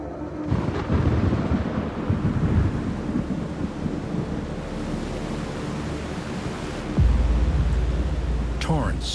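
Thunderstorm effect with steady rain-like rushing noise and rolling low rumbles, a deep thunder crack near the end; continuous and loud throughout.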